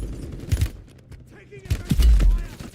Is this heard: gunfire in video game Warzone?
yes